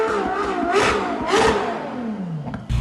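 A Ferrari SF90 hybrid supercar revs up close, its engine rising and falling in several sharp, whining surges with a harsh, ripping edge, loud and alone.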